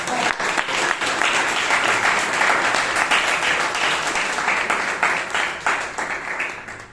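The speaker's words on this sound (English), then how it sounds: "Round of applause, guys." An audience at a Bangalore Toastmasters club meeting breaks into sustained, close, dense applause that holds steady for several seconds before tapering slightly at the end.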